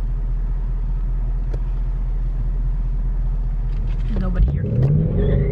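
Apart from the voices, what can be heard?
Ford Mustang GT accelerating at full throttle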